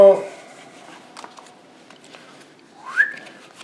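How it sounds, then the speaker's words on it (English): A person whistles a short rising note near the end, preceded by a brief tone at the start, amid faint shuffling of cards in a quiet room. "Do you have to whistle?"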